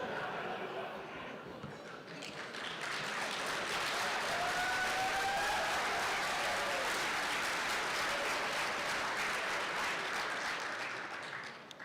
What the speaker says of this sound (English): That doesn't need applause for that.